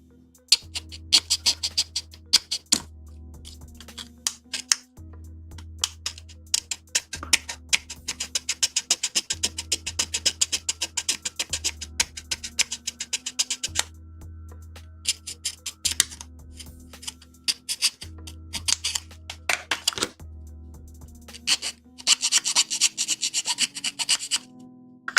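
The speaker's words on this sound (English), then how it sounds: "Just like sand it down a bit more, which I think should be doable." A part for a 1/48 scale Juggernaut plastic model kit from 86 is sanded by hand in rapid rasping strokes that come in repeated bursts with brief pauses, close and fairly loud over a low background hum.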